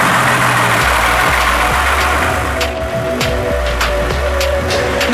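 A disused truck diesel engine, repurposed to drive an oil-pulling rig that raises and lowers a steel sling, idles loudly outdoors with a steady low rumble and uneven throbbing beats, joined midway by sharp repeated knocks.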